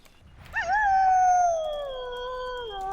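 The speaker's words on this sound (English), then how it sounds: "A strange howling sound rings throughout the hills." A creature howls in the Lord of the Rings Online video game, one long, loud, wavering wail that rises sharply, then holds and slowly sinks in pitch over a few seconds, with no talking.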